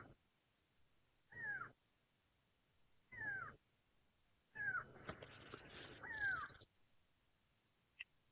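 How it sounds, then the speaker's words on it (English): Several loud, nasal go-away bird calls ring out on an early-morning safari drive, coming in separate bursts with pauses between them before a longer overlapping stretch. "you hear the go-away bird now?"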